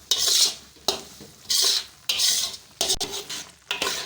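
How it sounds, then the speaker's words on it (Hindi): Chana dal dry-roasting in a pan for burfi, stirred with a spoon in rhythmic bursts of rattling, scraping strokes about every half second, close and loud, with no talking. "10 मिनट के लिए इसको मुसलसल भूनते रहेंगे ताकि ये जो दाल है वो कच्ची ना रह जाए।"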